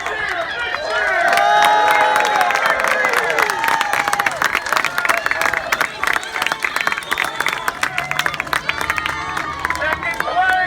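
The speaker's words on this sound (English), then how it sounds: "Come on, big cheer, big cheer." Spectators at a bamboo boat race cheer and shout loudly and continuously, a dense roar of voices with scattered clapping and excited calls.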